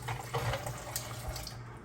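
Ginger lemon tea poured slowly into a glass packed with ice, a steady close trickle of liquid with a faint splashing wash throughout, no voices.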